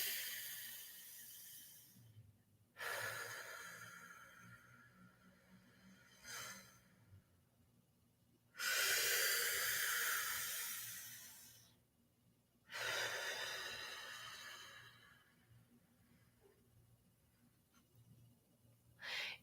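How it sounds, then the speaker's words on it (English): Slow, deep breathing in a quiet room: long breathy inhales and exhales arrive in a few separate waves with silent gaps between them. The breaths are close and clear, with no talking. "stop and take a deep breath"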